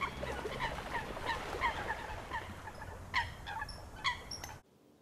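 Coots on the water giving repeated short honking, gobbling calls, several birds overlapping at moderate distance, ending abruptly into near silence.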